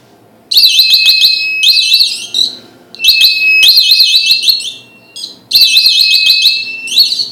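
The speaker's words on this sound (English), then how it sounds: "here is my laser detecting alarm system." A laser security alarm blares in loud repeated bursts, a shrill warbling electronic siren that starts, stops and restarts several times at close range with no talk.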